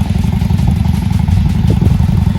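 Honda Shadow 750 Spirit motorcycle engine running nearby, a loud, deep, steady thumping rumble with a rapid pulsing beat and a slight mechanical clatter.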